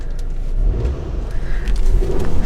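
A Hyundai car engine revs, heard as a low, muffled rumble from inside the cabin that rises slightly in two gentle swells, fairly quiet and steady.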